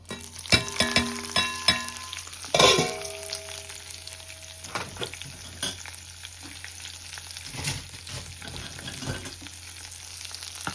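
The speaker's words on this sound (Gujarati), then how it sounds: "મરચાંને જરાક રોસ્ટ કરશું સિંગદાણાને રોસ્ટ કરશું" Green chilies and peanuts roast in a hot pan for poha, a close, steady sizzle broken by a few stirring clatters and scrapes near the start, with no talking.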